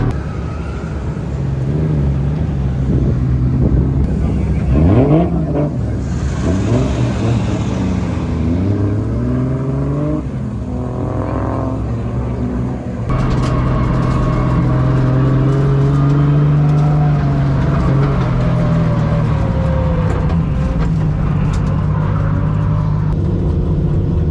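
A drift car engine revs and holds steady high revs on a race track at the Freedom Factory, loud and continuous throughout with pitch rising and falling.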